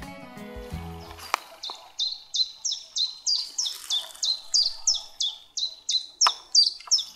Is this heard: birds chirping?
yes